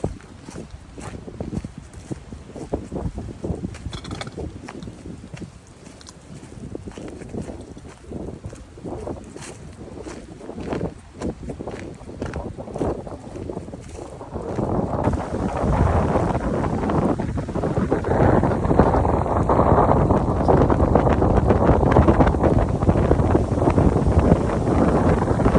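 Strong wind buffets the microphone, rumbling and roaring throughout and growing louder and more constant in the second half.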